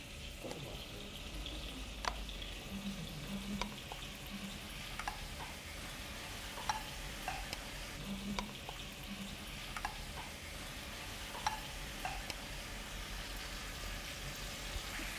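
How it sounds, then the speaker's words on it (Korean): Kimchi is pushed into a pot with a stir-fry spatula as kimchi stew cooks, giving a steady sizzling fry with scattered scraping taps throughout. "김치도 볶음 주걱으로 밀어내 냄비에 넣어주세요"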